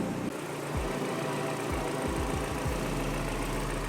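A Honda RC motorcycle engine idles steadily just after an oil change, a close, even rumble broken by a few soft low thumps.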